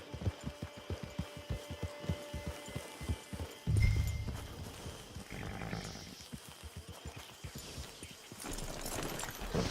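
Horse hooves clip-clop at a steady walking rhythm in the video game Red Dead Redemption 2, clear and close, with a brief louder thud midway and low ambient hum behind.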